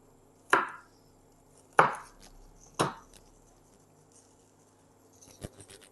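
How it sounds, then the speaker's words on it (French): A knife cuts a 4–5 cm piece of ginger into coarse chunks, three sharp, distinct chops spaced about a second apart, followed by lighter clicks and taps near the end, close and clear in a quiet kitchen. "Je vais prendre mon morceau de gingembre de 4-5 cm. Je vais le couper en gros morceaux, vraiment grossièrement"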